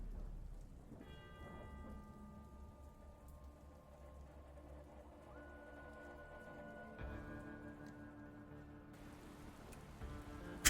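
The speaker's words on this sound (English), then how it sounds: "And now we get super nasty rain." Heavy rain and rolling thunder in the post-apocalyptic trucking game Dustland Delivery, a steady downpour hiss with low rumbles, while a sustained musical drone plays over it.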